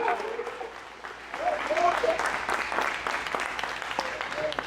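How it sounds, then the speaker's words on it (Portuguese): A church congregation claps loudly in praise during a sermon while a voice calls out over the steady applause. "Aplauda com força agora para ele."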